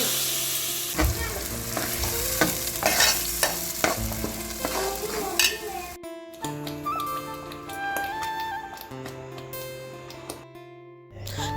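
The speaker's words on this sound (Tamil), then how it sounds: "நான் வத்தை போட்டு தாளிக்கிறேன்" Steady hot-oil sizzling and spattering with occasional clinks of a utensil against a pan, close and continuous, as dried berries are tempered in hot oil for a ridge gourd peel chutney.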